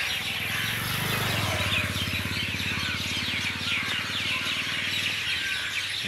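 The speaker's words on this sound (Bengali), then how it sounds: "পাখিগুলো মানে কখনো একটু থামছে, আবার কখনো চেঁচামেচি আবার বৃদ্ধি পাচ্ছে।" Dense birdsong fills a sanctuary at dusk just after the evening call to prayer, a constant wash of overlapping chirps and calls among many trees, steady and loud throughout with no voices.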